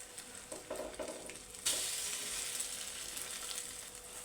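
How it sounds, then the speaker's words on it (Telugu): An egg paneer bread omelette fries in a pan after being flipped, a faint soft clatter first, then a sudden steady sizzle that holds at moderate loudness. "ఇలాగ మలుపుకొని వేయించుకోవాలి."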